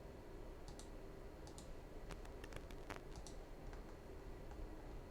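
Faint, light clicks of a computer mouse while working in 3D Slicer medical imaging software, a sparse scattering of single and double clicks over a low background hum, no talk.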